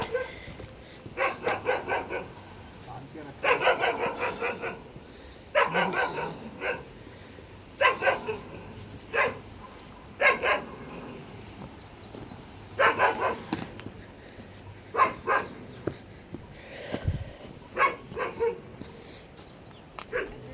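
A dog barks repeatedly in short bursts of several barks each, close and loud, with brief pauses between volleys and occasional yips, in a village orchard setting.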